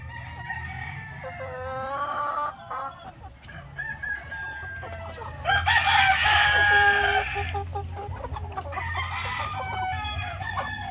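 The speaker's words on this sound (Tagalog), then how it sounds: "yung mga manok natin tumungtong na dyan sa kanilang bagong pugaran" Chickens cluck steadily nearby in a new coop on a farm, with a loud rooster crow rising in the middle and another shorter crow after, over a low background hum.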